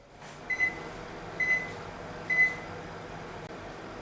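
A countertop oven roasting peanuts hums steadily and quietly, with three short electronic beeps evenly spaced about a second apart near the start and no voices.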